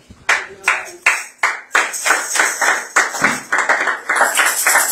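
Church congregation clapping together in a steady, loud rhythm, the claps starting sparse and then building to fast continuous applause across the whole room.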